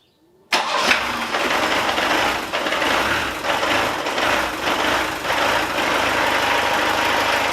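A Jeep engine fitted with a prepared turbo cranks and catches abruptly after a short silence, then settles into a loud, steady idle with slight rhythmic surges close to the microphone.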